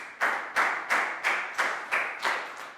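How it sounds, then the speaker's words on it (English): Classmates clap in a steady rhythm for a Year 3 student during a maths lesson, about eight even claps spaced roughly a third of a second apart, close and moderately loud with no talk over them. "Big round of applause for Lakgao."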